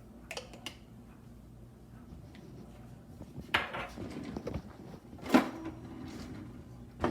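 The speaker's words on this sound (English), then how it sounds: "En nu wil ik hier zo'n peper snijden." A pepper being cut in a home kitchen with olive oil nearby, scattered knife taps and knocks on a board, a few sharper clunks of dishes or utensils, fairly close and irregular, with no talking.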